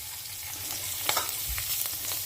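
Roasted peanuts and cashews stirred and fried in a pan for variety rice, a steady soft sizzle with a few sharper clinks of the stirring spoon, close and continuous.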